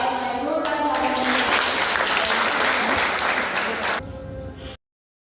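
Young participants at a personality development workshop at Ramakrishna Math break into loud, dense applause after a brief voice, clapping steadily for several seconds before it thins out and stops abruptly.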